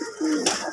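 Racing pigeons at a coop in Alaminos, being fed after a training release; a brief, close cooing call with a low rolling pitch, heard alone in an otherwise quiet moment.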